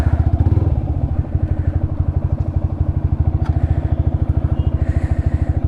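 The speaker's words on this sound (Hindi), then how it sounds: "निकल रहा है हमारा भाई पिकअप" Mahindra Bolero 1.7 pickup engine running as the vehicle pulls away, a loud, steady rapid diesel-like chugging pulse with a few faint clatters, close by and with no talk.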